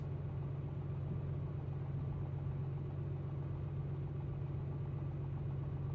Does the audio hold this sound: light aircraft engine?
yes